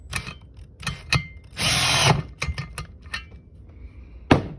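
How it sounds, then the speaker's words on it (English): A power drill whirs in a short, loud burst of about a second, between sharp clicks and clatter of parts being handled during an engine teardown. "and then I'll take my drill"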